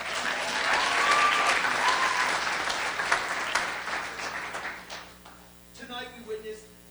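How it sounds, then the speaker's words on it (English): An audience claps loudly for the teachers at a student entrepreneur pitch event, the dense applause fading after a few seconds as a voice begins speaking. "Let's give them a big round of applause."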